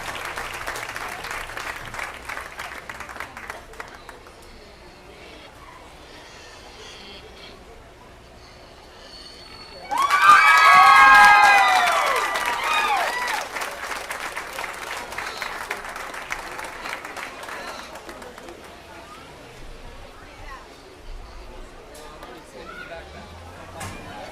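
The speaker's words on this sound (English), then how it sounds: "Let's give them one more big round of applause" Applause from the audience at a youth swine fitting and showmanship contest bursts loudly about midway, then tapers into lighter clapping. Someone speaks over a quiet hall before and after.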